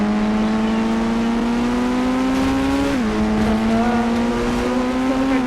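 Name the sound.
Lamborghini car driving in video game Indian Bike Driving 3D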